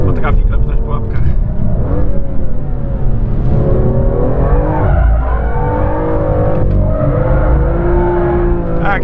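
A BMW M2 slides sideways on a race track, its tires squealing in rising and falling wails over a loud, close engine roar, with someone talking throughout.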